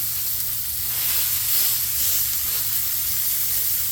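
Smash burger patty pressed with onions on a hot griddle gives a loud, dense, steady sizzle and hiss, close and continuous throughout with no speech.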